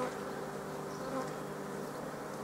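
Steady, dense buzzing of many honeybees crawling up over a hive frame, a continuous close drone with no voices.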